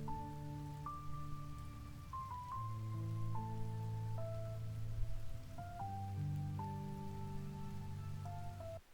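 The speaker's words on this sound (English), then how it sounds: "Note the rain that's just all of a sudden here without any actual rain being in the void." Steady rain hisses softly in the video game Wolfstride, a faint, even patter running throughout beneath a slow, sustained musical melody.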